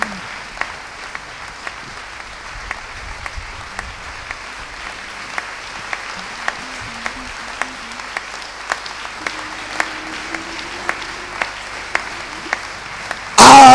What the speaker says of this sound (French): Nous allons accueillir le pasteur Claudia Joseph de l'église de Fongbé par tes acclamations.